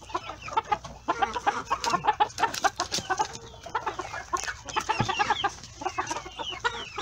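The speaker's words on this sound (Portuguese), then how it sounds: "Aqui nessa baia estão dois sedosos galos" Two Silkie roosters, a blue partridge and a blue, cluck and chatter continuously nearby in a pen, with short overlapping calls and a few louder squawks.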